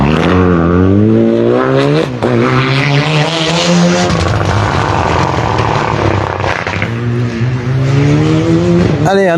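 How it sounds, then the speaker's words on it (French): A rally car, running a test session ahead of the Rallye du Rouergue, is heard close and very loud on a tarmac stage. The engine note climbs and drops through several gear changes, with a brief lift before it revs hard again. "maury Facchinetti, associé à Emma Bonnemort, qui sont là pour effectuer une petite séance de roulage avant la prochaine échéance du Rallye du Rouergue"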